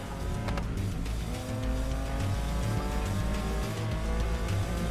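A race car in the video game Grid Legends roars continuously at high revs, its engine loud and close, with tyres squealing faintly through a chicane as the rear end slides out.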